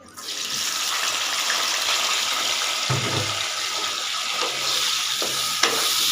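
Fish frying in a pan of hot oil, a steady broadband sizzle running throughout, with a brief low clatter near the middle and a few soft knocks toward the end.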